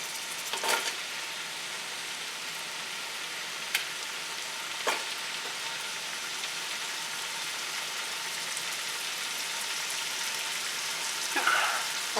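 Chopped celery softening in a pot on the stove, a steady low sizzle and frying hiss running throughout with a few soft clinks and stirs, no talking.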